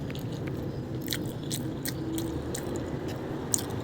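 Close, continuous chewing and biting sounds come from someone eating rice with pinakbet vegetable stew at breakfast, with soft crunches and mouth noises at an even pace and no talking.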